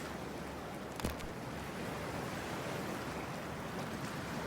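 A character wades into freezing, toxic water in Cyberpunk 2077, heard as a brief splash followed by a steady, dense wash of rushing water and surf-like noise that runs continuously throughout.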